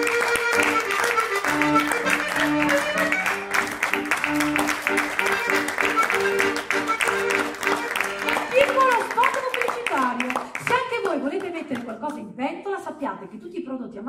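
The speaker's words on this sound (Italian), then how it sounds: "Applausi" An audience applauds at a live Italian theatre event about food and the mafia, the broad clapping joined by music and voices, continuing steadily before thinning out near the end.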